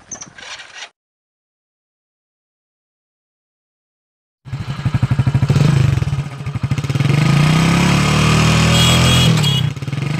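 A motorbike engine in a video game runs loud and steady after a brief burst of sound and several seconds of silence, with revving and clattering mechanical texture.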